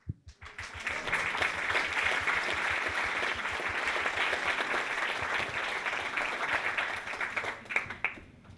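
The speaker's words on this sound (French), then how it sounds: "On s'applaudit normalement." Audience applause fills the hall at the trophy ceremony of the 36th Saint-Malo comic book festival, a steady, dense clapping from a large crowd that swells quickly, holds for several seconds and tapers near the end.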